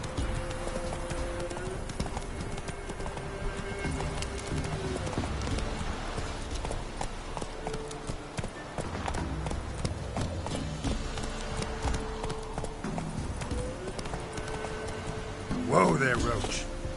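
Hooves of Roach, the horse in The Witcher 3 video game, clip-clop in a steady galloping rhythm throughout, with game music and speech running over them and a louder burst near the end.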